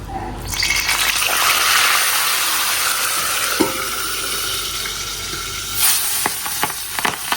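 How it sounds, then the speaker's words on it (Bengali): Chicken marinated with ginger, garlic, turmeric and chili frying in a pan beside pabda fish, loud sizzling with sharp oil splatters and crackles up close, a few bright pops near the end. "এটাকে আগে একটু ঢাকনা দিয়ে দিই, তারপরে এত ছিটকায় বাবা"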